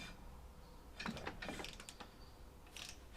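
A 17mm bolt being tightened up with a wrench: a faint, brief cluster of metallic clicks and scraping turns in the middle, then one more short rattle near the end, in a quiet workshop.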